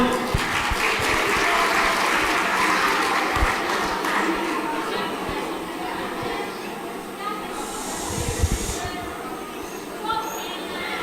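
A crowd applauds someone speaker at a refugee forum in New Zealand, the clapping dense at first and gradually thinning and fading, with voices speaking over it and a brief hiss near the end.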